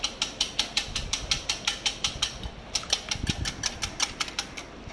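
Two whole eggs are whisked briskly in a bowl for a mango cheesecake, giving a fast, even run of close clicking strokes, about four or five a second, with one brief hitch midway.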